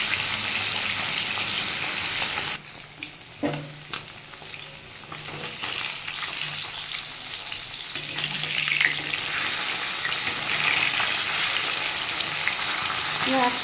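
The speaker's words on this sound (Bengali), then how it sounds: "4টে মাছ ভেজে নিই।" Four bata fish frying in hot oil in a home kitchen, a steady loud sizzle that briefly drops as pieces are moved, then returns strong, with occasional utensil clinks.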